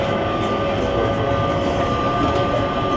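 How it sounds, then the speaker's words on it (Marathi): Inside Singapore airport's driverless Skytrain, a steady loud rumble of wheels and motors fills the car with a constant hum, continuous and close throughout. "हा म्हणजे ड्रायव्हरलेस ट्रेन आहे"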